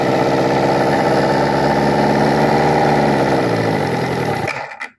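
A small engine fitted with a muffler runs steadily at a loud, even idle for several seconds, then stalls and dies away abruptly at the end.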